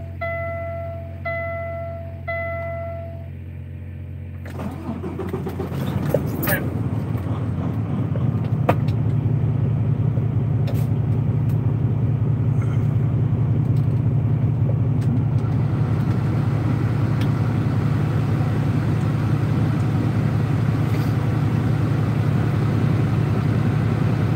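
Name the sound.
truck engine starting and idling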